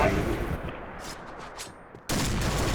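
Gunfire in a shooting video game, heard as dense loud bursts at the start and end of the clip with a quieter stretch between them.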